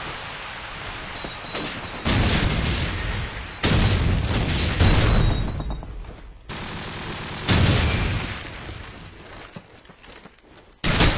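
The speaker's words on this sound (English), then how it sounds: "Watch out, they throw a nade bottom A" A grenade explodes amid gunfire in the online shooter Call of Duty 4 during a competitive match, producing several loud booming bursts with rattling shots and rumbling decay between them.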